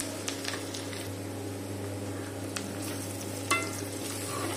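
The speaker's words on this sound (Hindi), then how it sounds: "बस 2 से 3 मिनट में ये अच्छे से फ्राई हो जाएंगी।" Onions fry in oil toward golden brown for chicken changezi, a soft, even sizzle with occasional light stirring taps over a low steady kitchen hum, no one speaking.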